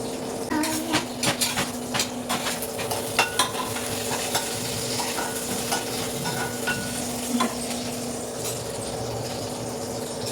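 Noodles frying with onions in a pan over high flame, a steady close sizzle broken by repeated scraping and clinking stir strokes throughout, with no voices.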